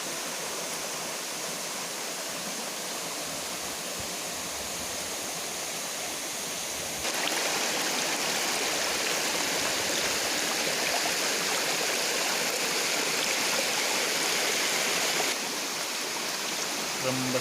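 Steady broadband rush of the Cipaas river flowing through a quiet, untouched stretch, a constant stream-like wash that grows noticeably louder and brighter midway before easing slightly near the end, with no voices.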